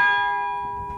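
A large bronze bell in a carillon tower is struck once with the hammer held down against it, giving a clear metallic strike whose steady ringing tone decays slowly.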